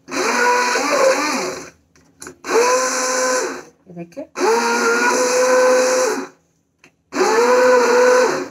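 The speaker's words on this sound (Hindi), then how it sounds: "so I am using this blender which my mom has sent" A home blender whirs loudly through broccoli soup in four long bursts separated by short pauses, with a brief spoken word in one gap.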